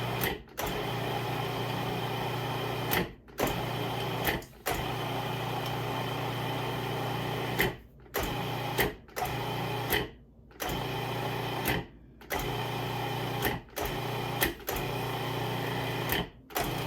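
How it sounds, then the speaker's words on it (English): A food processor pulses rhubarb custard pie crust dough in repeated bursts of steady motor whir, each burst broken by brief pauses, loud and close with no talking. "it's how it's climbing up the side of the food processor"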